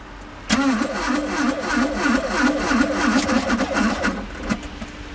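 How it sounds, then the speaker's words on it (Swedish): A Volvo 480 cranks after a night outdoors at minus 23 degrees, its starter grinding in a steady rapid rhythm for several seconds with the engine straining but not catching, loud and close, no voices. "Bilen har stått ut över natten och ska nu startas helt enligt instruktionsboken."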